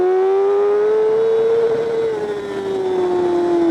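A superbike races past with its engine note rising and sliding in pitch, a loud, steady high whine from the track at a New Zealand superbike event, no other sounds over it.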